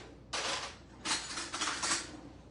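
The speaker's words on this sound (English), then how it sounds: "So let me get a spoon" Metal cutlery clinks and rattles close by in a home kitchen while someone fetches a spoon for tasting guacamole, three short bursts of jangling over a quiet background.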